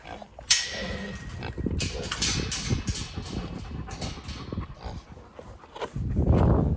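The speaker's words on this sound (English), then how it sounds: "gotta feed these pigs. They know what's up." Pigs grunting and squealing excitedly at close range, with rustling and clattering around them and a louder burst of grunts near the end.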